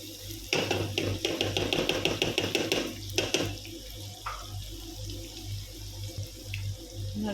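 A small amount of water runs from a tap or is poured into a pan of cooking meat in a home kitchen, a steady splashing stream for a few seconds, then quieter clinks and stirring over a low background hum.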